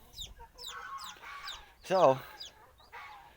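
Chickens cluck on a farm in a series of short, close calls with one louder squawk in the middle, while someone speaks briefly.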